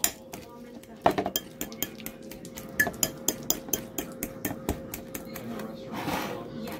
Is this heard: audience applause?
no